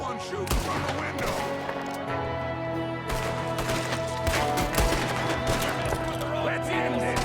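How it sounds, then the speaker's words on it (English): Gunfire in a Red Dead Redemption 2 shootout, with shots cracking steadily over a dense bed of music and ambience throughout. "There's another one shooting from the window."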